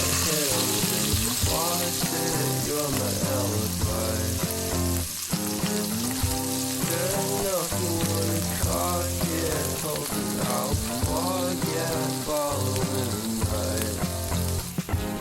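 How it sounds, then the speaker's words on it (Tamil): Onions and green chilies sauté in a pan with a steady, close sizzle that runs unbroken throughout. Tonal background music plays underneath the frying. "வெங்காயம், பச்சை மிளகாய் போட்டு நல்லா வதங்கிட்டோம்."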